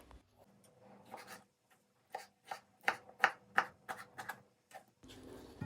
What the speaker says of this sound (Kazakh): Ең алдымен тұздалған қиярымызды тураймыз.